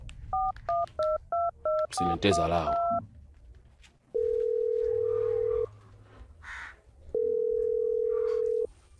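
A telephone is dialed with a quick run of keypad tones, and then a steady dial tone sounds twice in long, loud stretches. Someone speaks briefly between them.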